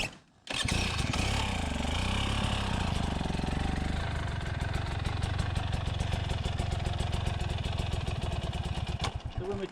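A dirt bike engine idles and putters loudly at low speed close by, with a rough rhythmic pulse that steadies after a brief start.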